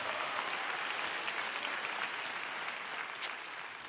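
An audience applauds at an August evening event, a dense, even wash of many hands clapping that holds steady for a few seconds and then eases slightly, with one sharper clap standing out near the end.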